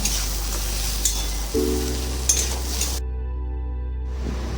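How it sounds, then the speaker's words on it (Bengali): Bitter gourd pieces and crushed lentil dumplings sizzle in a frying pan as they are stirred, a close, continuous crackling hiss with occasional scraping clatter, fading to a softer sizzle toward the end. "আর উচ্ছেগুলো দিয়ে দিলাম আর বড়িগুলো একটু গুঁড়িয়ে দেবো দিয়ে একটু ভালো করে নেড়ে নেব"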